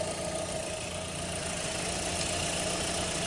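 A car engine idles steadily during a pre-purchase inspection, a constant even hum with a low vibration and no change in pitch, heard close and alone.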